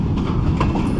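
A train rolling past on rails in the morning, a loud, close rumble with clickety-clack wheel noise that stays steady across the whole moment.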